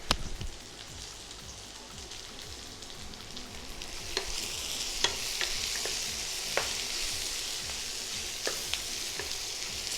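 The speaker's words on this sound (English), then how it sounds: "So let's just stir fry all of this until we get the right texture and consistency." Onions, carrots and capsicum stir-fried for kadai mushroom make a steady close sizzle throughout, with occasional sharp spoon taps and scrapes against the kadai.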